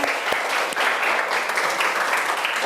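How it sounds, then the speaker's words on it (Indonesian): Classroom applause during an informatics teaching session, a crowd of students clapping steadily and fairly loudly for a few seconds with no voice over it. "Beri tepuk tangan"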